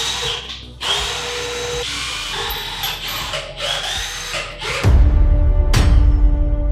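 A power tool cutting M8 and then M6 threads while building a Big Block engine stand, a close, continuous whirring drone that stops and restarts and grows louder and heavier partway through.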